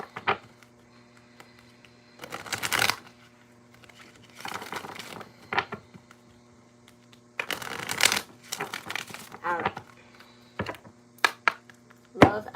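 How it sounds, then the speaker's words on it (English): Tarot cards are shuffled by hand in several quick bursts of riffling and slapping, close and crisp, separated by short quiet pauses. "Last few shuffles here, Cancer Leo."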